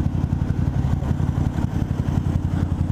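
A motorcycle engine rumbles steadily and loudly nearby, with a low, even drone and clattering mechanical texture throughout and no talk.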